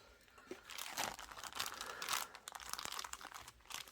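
Plastic Ziploc bag crinkling close up during a coin unboxing, quiet irregular rustles and crackles in quick bursts.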